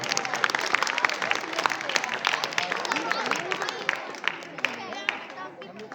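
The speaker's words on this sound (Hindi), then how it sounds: "एक बार जोरदार ताली" Loud, sustained audience applause with cheering at a school annual function, dense clapping filling the space for several seconds and slowly thinning toward the end.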